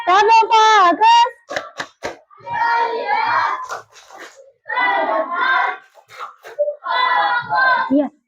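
A fifth-grade class in an Indonesian primary school joins in a rhythmic clapping chant, children's voices rising in short sung bursts punctuated by sharp hand claps.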